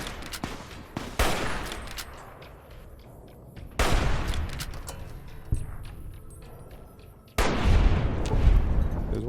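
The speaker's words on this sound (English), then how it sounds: "Who's shooting at me?" Gunfire in Fallout: New Vegas: three heavy, loud shot bursts hit abruptly a few seconds apart, each ringing off into a rumbling tail, with no talking.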